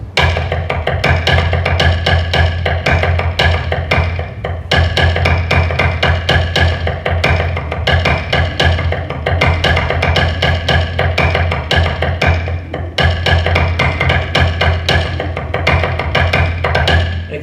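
A rudimental snare drum prelude played with precise sticking, shifting from 2/4 into 6/8 time; dense, continuous rolls and accented strokes ring loud and close throughout with brief pauses, and no talking.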